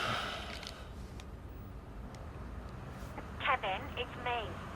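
A telephone on speakerphone gives a few short, warbling electronic beeps as a voice message begins, fairly faint over a quiet room hiss, with people talking nearby.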